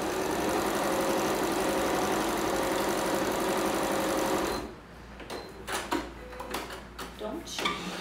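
Sewing machine running a fast continuous stitching whir on a children's toiletry bag for about four and a half seconds, then stopping, followed by quiet handling clicks and rustles.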